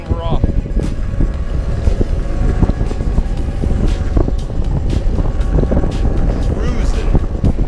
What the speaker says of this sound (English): Uphill, not a problem. On the electric skateboard.